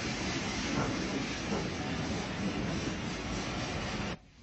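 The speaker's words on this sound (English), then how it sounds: "C-Class locos 1702 and 1715 bring another of the Dunkirk trains through Beckenham Junction" Two C-Class steam locomotives hauling a train through Beckenham Junction, a dense continuous rumble and hiss of rolling stock and steam at fairly close range that cuts off abruptly near the end.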